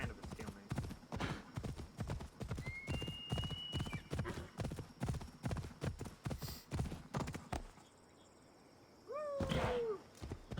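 Steady clip-clop of a galloping horse's hooves in Assassin's Creed Odyssey, continuing for several seconds, then a pause and a high horse whinny near the end.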